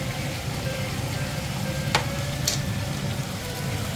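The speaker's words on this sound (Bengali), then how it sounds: "এটা একটু হালকা সাঁতলে নেব।" Tomato lightly sautéing in a pan for chicken malai curry, giving a steady close sizzle with a couple of brief sharp clinks of stirring partway through, with no talking.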